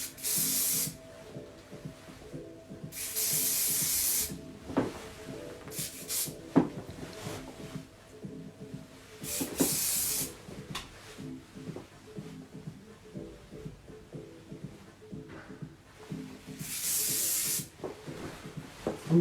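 Hairspray from an aerosol can is sprayed onto hair during a layered haircut in several short hissing bursts, separated by quiet rustling and handling sounds at close range.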